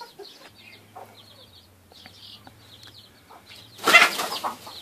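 A chicken caught in a wire bird trap clucks softly and intermittently at close range, then flaps its wings in a sudden loud burst near the end.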